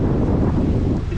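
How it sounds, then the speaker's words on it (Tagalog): Strong wind gusts over open water during fishing, roaring loud and close against the microphone as a steady rumbling rush for the whole brief moment. "Lumakas ng hangin."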